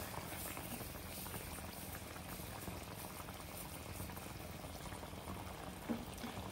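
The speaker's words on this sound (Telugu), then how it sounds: "5 minutes ఇలా ఉడుకుతా బాయిల్ అవుతూ ఉంది ఇలాగా" Chickpea pulao boils in a covered pot, a faint, constant bubbling simmer that stays even and steady throughout with no other sounds.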